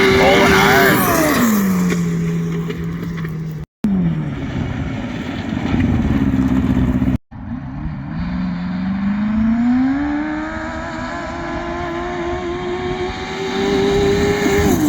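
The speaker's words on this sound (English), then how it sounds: "Just doing a test pass on the Raptor to see how she handles the bumps in the tracks, and pulling hard" A Yamaha Raptor ATV takes a hard test pass over bumpy track, its engine revving loud and close, with pitch climbing and dropping through gear changes and two sudden brief cuts.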